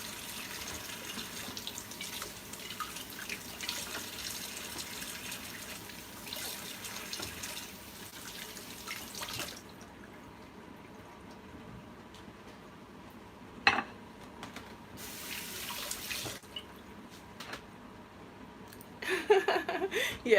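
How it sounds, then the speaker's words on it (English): Tap water runs steadily into a sink while mushrooms are rinsed, a continuous splashing rush that stops partway through, followed by brief clinks of dishes and a quieter trickle. "So we are done rinsing our mushrooms"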